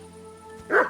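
A dog in the Kingdom Come Deliverance 2 video game lets out a single short yip-like bark near the end, over a low steady game background hum.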